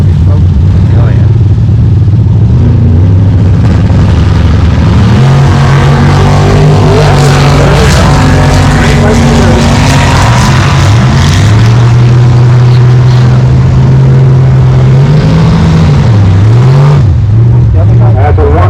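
A 1963 Plymouth Savoy 440 Stroker and a 1994 Mustang thunder down a Nova Scotia drag strip, loud rumbling engines shifting pitch throughout while crowd voices and an announcer carry on underneath.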